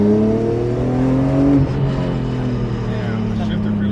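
A BMW M5 E60 with its V10 engine and manual gearbox revs hard up to a peak and drops back to a steady growling idle, loud and close, with a voice speaking over it.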